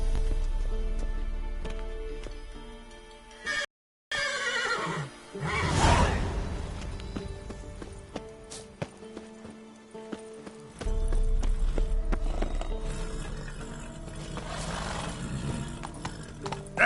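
Roach, a horse in The Witcher 3, trots with rhythmic hoofbeats, and a neigh and a rushing whoosh come near the start. The hoofbeats stay close and fairly loud, with no talking.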